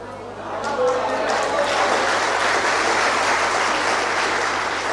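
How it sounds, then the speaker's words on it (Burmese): A crowd of listeners at a literary talk breaks into sustained clapping that swells within the first half second and holds as an even, dense roar of applause. "ဒီအဖြေကိုကျဲလို့လက်ခုပ်တီးမှန်းကျွန်တော်သိပါတယ်"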